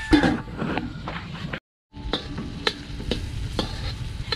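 Garlic, onion and tomato sautéing with spices in a pot over a strong wood fire, a steady sizzle broken by stirring scrapes and clicks, with a brief silent gap partway through.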